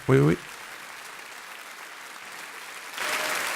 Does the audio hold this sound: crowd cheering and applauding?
yes